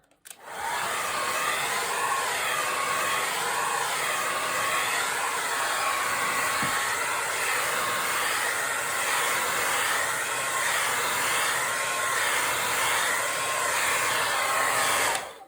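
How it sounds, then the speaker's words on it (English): A hairdryer blows steadily and close up onto a wet painting, giving a loud continuous whirring hiss that starts abruptly and runs without a break, with no talking. "we're going to pull out, boom, the hairdryer"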